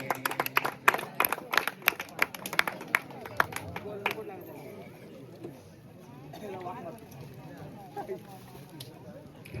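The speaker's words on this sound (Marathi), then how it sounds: "जोरदार टाळ्या वाजवायच्या टाळ्यामध्ये कोणी कंजूसी करायची नाहीये" Scattered, fairly close claps from an audience at a village cricket club prize-giving ceremony, sharp and irregular for a few seconds before fading under a speaker's voice and crowd murmur.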